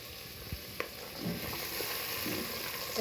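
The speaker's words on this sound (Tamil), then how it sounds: "எல்லாத்தையும் ஒன்றா வதக்குறோம். தக்காளி பழத்தின் பச்சை வாசனை போகணும்" Chopped green chili and tomato fry in a pan for a country-chicken biryani, making a continuous close sizzle with occasional soft stirring scrapes and clinks, no voices.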